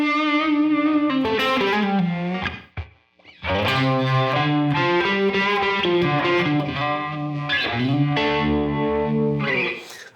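A distorted electric guitar plays a slow 12-bar blues lick in D with bends and sustained notes, a short gap midway, loud and close.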